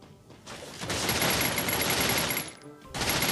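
Sustained automatic gunfire from the Free Fire battle royale game, a dense loud burst running nearly continuously for about two seconds, a brief lull, then another burst starting up.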